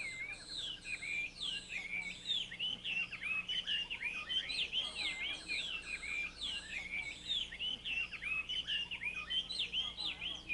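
A Taiwan hwamei babbler sings in forest, a loud, close run of rich, varied whistled phrases that repeats almost without pause, over a low background hum.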